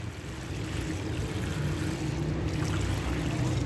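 Water poured steadily onto the soil of a potted Red Lady papaya plant, a continuous close, even rushing wash with no breaks and no talk.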